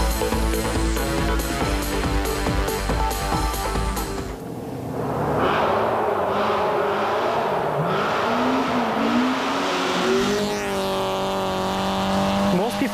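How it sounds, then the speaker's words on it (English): Rally cars race along a gravel logging road near Kananaskis at a 2007 rally. Loud engines rev and whine with rising and falling pitch sweeps as cars slide and power through, heard close and continuous with no voices over them. "drivers are speeding, sliding, and sometimes crashing"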